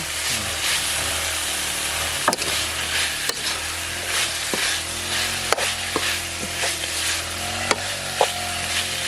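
Field rat meat frying in a pan with aromatic spice paste, a steady loud sizzle with occasional sharp clicks of a utensil against the pan, close up and without voices.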